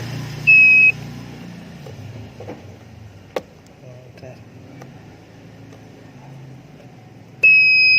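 Continuity tester beeping as its probes touch a motorcycle fuse on a Honda Vario 150, two short steady electronic beeps at the start and end with quiet clicks of probe handling between.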